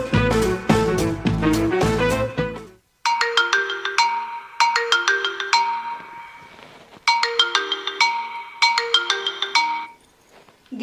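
A mobile phone ringtone plays loudly and close, a bright repeating melodic pattern in several bursts with short gaps, alone without talk.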